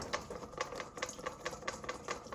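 A wire whisk beating Caesar salad dressing in a bowl while oil is slowly dripped in, giving a steady run of quick, light ticking strokes close by with no talk.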